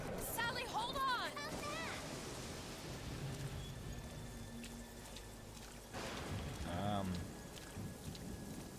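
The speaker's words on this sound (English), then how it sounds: "It's raining." Steady rain patters throughout in the video game BioShock Infinite: Burial at Sea, with game sound effects and a person talking over it at the start and again near the end.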